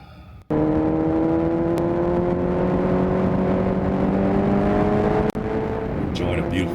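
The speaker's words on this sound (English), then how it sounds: "enjoying the power band of a first gen Hayabusa" A first-generation Suzuki Hayabusa engine pulls hard after a short lead-in, its close, loud note climbing steadily through the rev range, with brief breaks near the end and speech mixed in.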